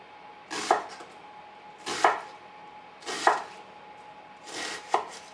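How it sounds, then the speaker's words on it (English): A knife slices through a big red onion on a cutting board in four evenly spaced, crisp chops, each a sharp thud with a short crunchy tail, close and clear with no speech. "First things first, we're gonna slice up this big red onion."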